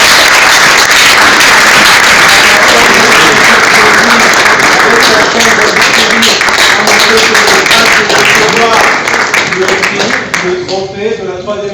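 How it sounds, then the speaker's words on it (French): Loud, dense audience applause at the Nzonzing Award ceremony, sustained clapping with cheering voices that thins out near the end. "sous vos applaudissements"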